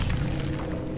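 Hatch escape in the video game Dead by Daylight: a loud, dense low rumbling boom that fills the whole second, with a noisy whooshing wash on top and no talk.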